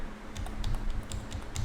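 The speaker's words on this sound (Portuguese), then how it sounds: "Eu vou digitar no meu próprio teclado." Typing on a computer keyboard, with rapid irregular key clicks and taps in quick succession, close up and alone over a low background hum.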